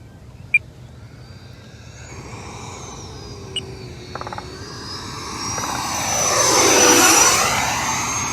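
An FMS 80mm electric ducted-fan Rafale RC jet makes a slow, flaps-down pass: its whine grows from faint to a loud, close rushing roar that peaks and sweeps past, with a steady hum beneath.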